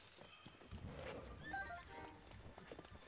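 Horse whinnying and hooves clip-clopping in Zelda: Breath of the Wild, a brief neigh over quick close hoof beats at low level with game sounds around.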